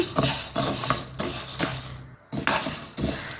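Chana dal dry-roasting in a pan without oil rattles and patters as it is stirred in repeated scraping bursts, with a brief pause partway through.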